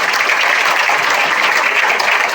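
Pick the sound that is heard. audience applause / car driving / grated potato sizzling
audience applause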